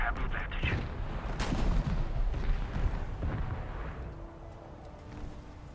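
Naval gunfire from a warship in a video game, booming as a series of heavy, rumbling shots over sustained battle noise, with a voice faintly present.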